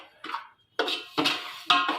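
Dry semolina being roasted in a pan for suji laddoos and stirred with a metal spoon, giving four separate bursts of scraping and clinking against the pan, close and fairly loud, with quiet gaps between them.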